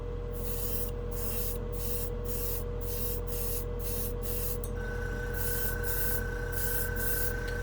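Airbrush spraying Pro Acryl acrylic hobby paint in a steady, continuous hiss, with the air stream pulsing in short regular bursts and a faint tone holding underneath, close and fairly quiet.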